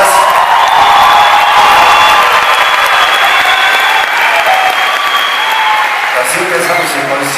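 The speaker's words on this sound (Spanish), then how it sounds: "Muy bien acompañado con las generosas palmas del público de Ecuador." A concert crowd in Quito, Ecuador, applauding loudly and steadily, dense clapping with scattered cheers and whoops, close and sustained throughout.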